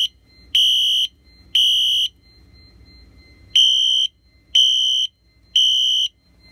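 A fire alarm horn with a flashing strobe sounds in loud, evenly spaced high-pitched blasts in a code 3 pattern, two short bursts, a pause, then three more, over a faint low hum.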